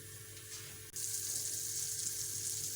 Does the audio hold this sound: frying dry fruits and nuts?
yes